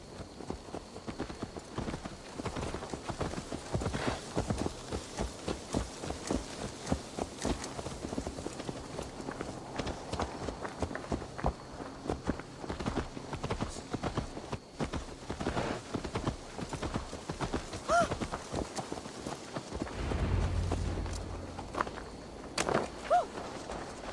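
Horse hooves clip-clop steadily in Assassin's Creed Valhalla, a quick repeated trotting rhythm heard clearly throughout, with a short heavier thud and rumble near the end.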